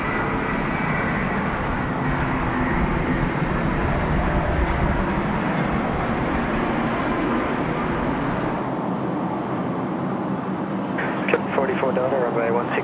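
An airliner takes off at night from Sydney Airport, its engines giving a loud, steady roar that fills most of the stretch before dropping back, with a brief burst of radio chatter near the end.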